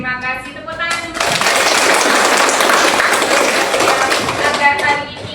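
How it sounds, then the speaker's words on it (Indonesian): An audience in a computer accounting class bursts into loud, sustained clapping after a brief opening of talk, the applause dense and even until the end. "Tepuk tangan dulu."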